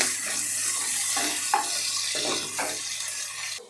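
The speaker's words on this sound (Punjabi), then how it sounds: "ਆਪਾਂ ਇਹਨੂੰ ਭੁੰਨੂਗੇ ਹੁਣ ਚੰਗੀ ਤਰ੍ਹਾਂ ਜਦੋਂ ਤੱਕ ਕਿ ਪਿਆਜ਼ ਆ ਜਿਹੜਾ ਉਹ ਬਰਾਊਨ ਨਹੀਂ ਹੋ ਜਾਂਦਾ" Finely chopped onion frying in a pan for veg biryani, a steady close hiss and sizzle with a few soft stirring scrapes, heard alone without voices.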